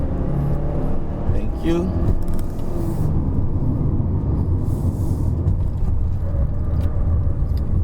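A 2019 Mazda CX-5 2.5L turbo AWD shifts up while climbing a wet hill road, with a steady cabin engine drone and tyre hiss under a person talking.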